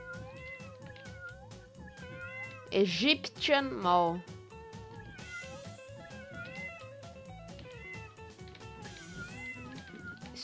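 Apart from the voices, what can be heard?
cats meowing in video game Tasty Planet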